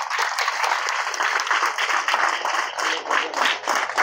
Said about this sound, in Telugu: వాళ్ళందరికీ కూడా క్లాప్స్ కొట్టండి